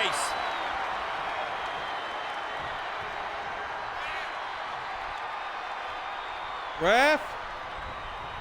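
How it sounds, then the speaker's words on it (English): Video game wrestling crowd in WWE 2K23 roaring steadily throughout as a loud, continuous arena wash, with a brief louder burst near the end and a commentator's voice over it. "The sound of this crowd is deafening, and he's asking for more."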